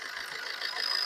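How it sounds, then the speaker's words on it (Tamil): A 2011 Maruti diesel engine idles steadily in an open engine bay, a close, even hum with a faint tick running through the short stretch and no voices over it. "பாருங்க இன்ஜின் பெட்ரோல் வண்டி மாதிரி வருது பாருங்க."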